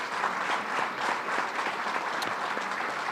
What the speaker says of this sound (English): So they deserve a round of applause too